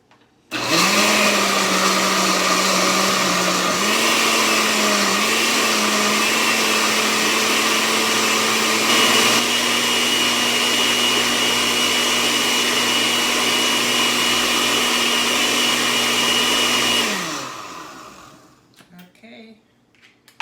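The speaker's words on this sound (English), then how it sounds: "I'm gonna blend the pineapple first" A blender runs on pineapple with a little water, a loud steady motor whir with a slight pitch dip early on, lasting about sixteen seconds before spinning down, followed by faint clatter.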